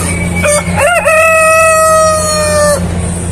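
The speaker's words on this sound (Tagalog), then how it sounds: "Ang lalaking manok." A rooster crows once loudly and close by, a rising call held for about two seconds over a faint steady background hum.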